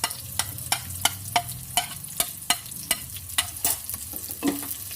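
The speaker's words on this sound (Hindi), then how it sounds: "इन सबको मिला के इसका हम तड़का लगाएंगे।" Ginger, crushed garlic and finely chopped green chilli fry in ghee as a tadka for sarson ka saag, a steady sizzle broken by regular sharp scrapes of a spoon stirring the pan, close and with no talking.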